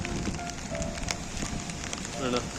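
Heavy rain pours down in a dense, steady hiss with scattered drips and splashes, filling the whole scene without pause.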